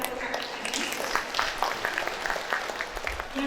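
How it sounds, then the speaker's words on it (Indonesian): An audience at a regional cooperative council assembly in Kediri claps for the DEKOPINDA Kota Kediri board, a busy spread of applause running throughout under a loud voice speaking over a public address system. "minta tepuk tangannya buat DKOPINDA Kota Kediri"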